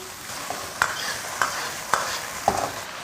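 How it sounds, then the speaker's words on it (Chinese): Slices of beef liver with ginger, garlic and scallion stir-fried in a wok over high heat: constant loud sizzle punctuated by four or five sharp, evenly spaced scraping tosses of the spatula, close and without speech. "下入滑好的牛肝， 大火翻炒匀净。"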